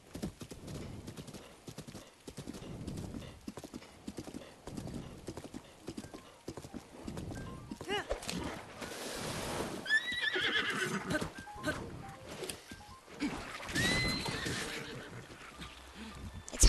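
Horse hooves clip-clopping at a steady gallop in Zelda: Breath of the Wild during rain, with occasional neighs and whinnies, loud and continuous over game ambience.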